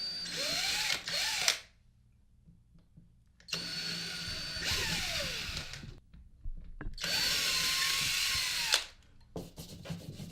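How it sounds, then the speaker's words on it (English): A power drill bores into drywall in three bursts of a second to five seconds, whining as its speed rises and falls, with quiet pauses between. "take your drill with your bit, line it up, and it doesn't have to go too far in"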